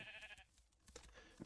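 Sheep in the Minecraft modpack GregTech New Horizons give a short, faint bleat amid light clicks and game noises.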